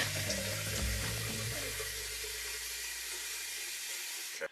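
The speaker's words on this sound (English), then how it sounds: "Let's give this a rinse." Steady running tap water hisses as a razor is rinsed under it, with a few brief clinks and splashes early on before the flow shuts off abruptly.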